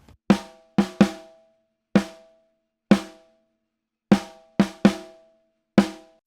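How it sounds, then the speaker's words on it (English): Individual hits on a Pearl free-floating snare drum, raw through a microphone preamp, nine sharp, close strikes with short decays spaced irregularly, some in quick pairs, with silence between them. "I had to hit the snare like separately for each take"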